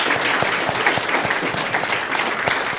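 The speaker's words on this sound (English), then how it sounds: "huge round of applause" Sustained applause from an audience gathered at a school orienteering sprint championship, dense steady clapping at close range with no talking over it.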